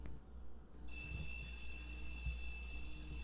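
A faint, high electronic alarm starts after a moment and drones on steadily in the background of a quiet indoor room, with no talking.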